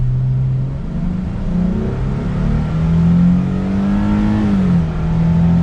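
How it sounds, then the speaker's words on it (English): A 2022 Nissan Frontier Pro-4X pickup accelerates from inside the cab, its engine droning and rising in pitch through downshifts, steady and fairly loud with no talking. "We'll give it another acceleration."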